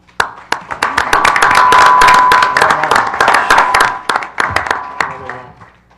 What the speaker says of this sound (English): I know that the commissioners up here are clapping